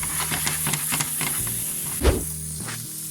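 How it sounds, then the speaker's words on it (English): Halloumi cheese sizzles and hisses in a hot frying pan, a steady close frying crackle with a brief louder burst of spitting partway through, no talking. "Ooh, listen to that sizzle."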